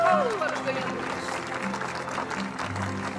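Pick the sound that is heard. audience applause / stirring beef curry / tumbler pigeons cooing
audience applause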